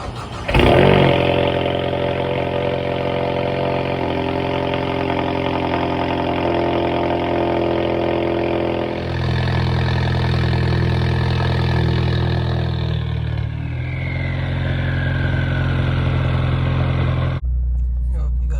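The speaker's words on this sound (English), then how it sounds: "I'll give you guys a little cold start though." A Ford EcoBoost engine with catless exhaust cranks and fires up on a cold start, then settles into a loud, rough, droning idle that shifts pitch partway through and continues steadily.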